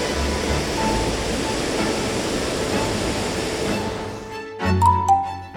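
Jiktang waterfall on the Hantan River in Cheorwon gives a broad, steady rushing roar of falling water that fills the scene, then drops away sharply near the end as a few distinct knocks and sounds follow.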